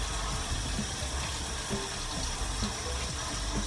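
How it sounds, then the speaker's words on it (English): Water runs from a tap in a steady, loud, broadband rush that continues unbroken from start to finish, with no voices. "I gotta do lukewarm water. So let me get the water ready."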